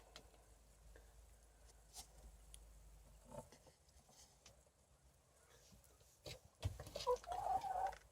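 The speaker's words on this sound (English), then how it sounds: "One of my chickens wants to be on camera." A backyard chicken clucks close by near the end, a short burst of several quick clucks after mostly quiet rustling and faint ambient noise.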